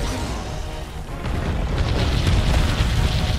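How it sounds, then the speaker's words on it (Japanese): A Raging Brachydios slime explosion in Monster Hunter World: Iceborne erupts as a loud, sustained roaring blast with deep rumble and crackling debris, filling the whole moment without a break. "改めて見ると爆発えげつないなー。"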